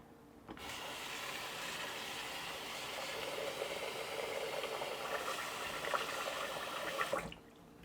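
Rinse water from washed rice pours out through a strainer into a catching bowl, a steady splashing, draining rush lasting about seven seconds, close and unbroken before stopping abruptly.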